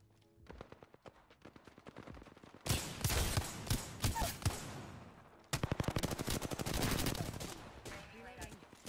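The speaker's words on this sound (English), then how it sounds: "Getting shot at." Rapid automatic gunfire in the video game Apex Legends, played on PS4: dense bursts of loud close shots with short pauses between volleys.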